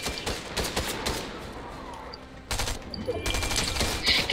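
Rapid bursts of gunfire from the Fortnite video game during a squads match crackle in dense clusters, loud and close, pausing briefly mid-stretch before a heavier barrage resumes.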